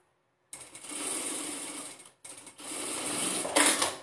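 A sewing machine stitches a closing seam on a fabric pencil case in two close, steady bursts of rapid whirring, broken by a brief pause and ending with a brighter spurt.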